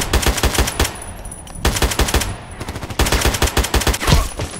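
AKMS rifle fire in Contract Wars: loud, rapid bursts of shots, close up, broken by brief pauses between volleys.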